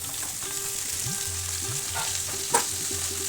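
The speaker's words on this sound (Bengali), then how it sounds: "সেই অবস্থায় ভেন্ডিটাকে একটু ভাজাভাজি করে নিতে হবে।" Okra cut lengthwise fries on high heat with cumin and dried chili, giving a steady close sizzle and crackle, with one sharp clink near the end.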